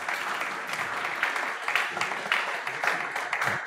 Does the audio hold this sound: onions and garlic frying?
no